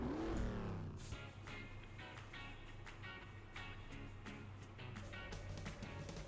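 Engine roar of the Manga car racing on a Hot Wheels video game track, a steady droning motor with a rising rev at the start and repeated clicks and bumps over the top.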